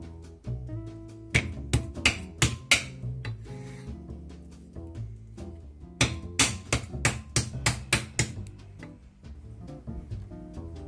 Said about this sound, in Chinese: 虾仁这样一个一个给它拍扁。